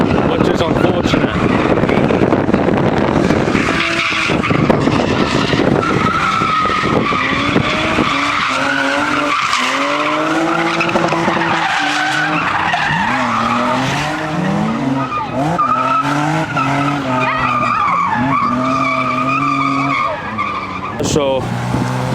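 Race car drifting in a video game at Crail Raceway, with continuous loud tire skidding and squealing over engine roar, pitch rising and falling through the slides, while a voice talks intermittently underneath.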